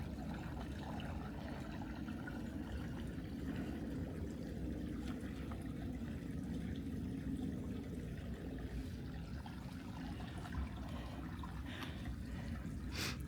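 Shallow creek with little water running through a nature preserve, a steady soft burble and trickle that carries on without a break, faint and without voices.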